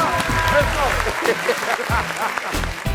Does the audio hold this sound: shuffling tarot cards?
no